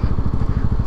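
A motorcycle fitted with an aftermarket exhaust rolls slowly along, its engine chugging in a steady, close, low-pitched pulsing thump throughout.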